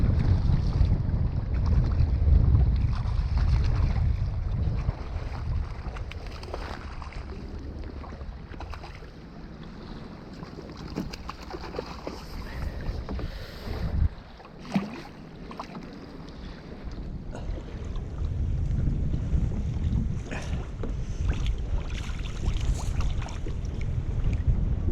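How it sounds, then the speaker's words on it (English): Strong gusty wind buffets the microphone on an open reservoir shoreline in March, a loud continuous roar that swells and eases, with water lapping and boat-like rumble underneath and no talking. "wind is getting even harder now"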